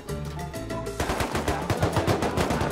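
Rapid bursts of AK rifle fire in the video game Rust, loud and close, with a sharp fast rhythm of repeated shots running continuously over a background of game sounds.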